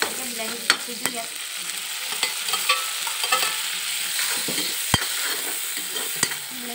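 Tomatoes hit a pan of frying onions and smoked dried fish, and a steady bright sizzle follows, with occasional clacks of a stirring spoon over the continuous hiss.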